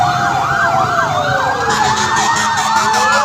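Several fire truck sirens wail together, loud and close, their rising and falling tones overlapping in a continuous din.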